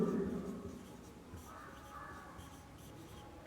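Pen writing by hand on paper during a geometry lesson on congruent right triangles, a soft continuous scratching at moderate level with no voice over it.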